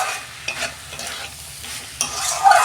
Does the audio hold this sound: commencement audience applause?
no